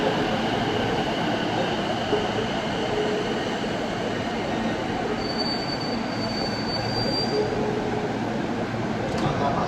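A train in Japan rumbles steadily with wheel and rail noise and a thin high squeal partway through, heard from inside at close range as a continuous loud roar.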